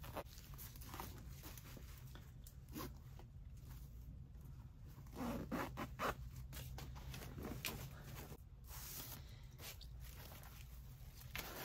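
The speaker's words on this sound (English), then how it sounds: "so now let's zip this up." A zipper closes on a sequin sublimation pillow cover with a suede-like back, a soft, close rasp that comes in short pulls against a quiet room.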